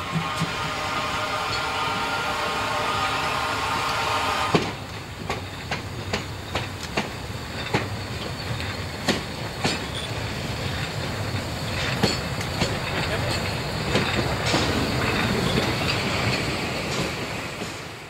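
A Zittau narrow-gauge steam freight train with loaded transporter wagons and a luggage van rolls slowly downhill over the 124-metre Olbersdorf viaduct, a steady rumble and hiss at first, then a long run of rhythmic wheel clicks and clanks, with no talk.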